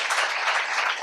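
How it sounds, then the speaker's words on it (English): An audience at a leadership and yoga talk-show forum gives a round of applause, a dense, continuous wash of many hands clapping. "let's give a big round of applause for all of you to be part of this forum"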